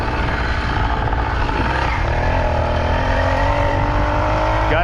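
The small engine of a Huffy Nel Lusso motorized bicycle runs at a steady, slightly high idle, a loud, buzzing drone close by that holds constant throughout with a faint pitch wobble and no speech.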